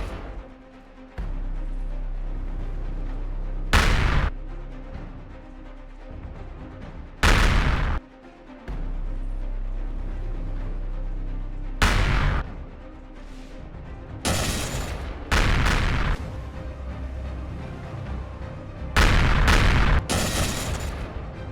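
Heavy artillery rounds fired in the space survival game Empyrion Galactic Survival, heard as several loud, separate booming blasts spaced seconds apart over a steady low drone of background noise.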